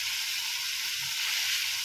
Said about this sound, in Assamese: এই মছলা ভাজি আছোঁ।